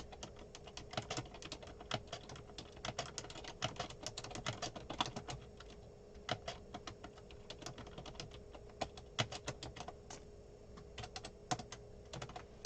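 Steady, rapid typing on a computer keyboard fills the whole stretch, with dense keystroke clicks in uneven bursts, close and fairly quiet, and no voices.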